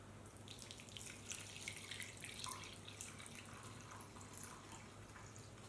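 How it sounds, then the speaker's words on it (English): Hot water is poured into a Croatian army combat ration pouch, a steady close trickle with drips running alone for several seconds. "it says here also to add 2 deciliters of hot water"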